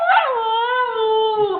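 A husky puppy cries and howls in one long, loud, wavering wail close by, drawn out and sliding downward in pitch, with no talk over it.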